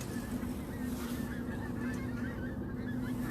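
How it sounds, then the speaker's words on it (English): Geese honking as a formation flies over a coastal fishing spot at dawn, repeated nasal calls carrying from overhead over a constant low rumble of wind and surf. "as you can hear all the geese flying over"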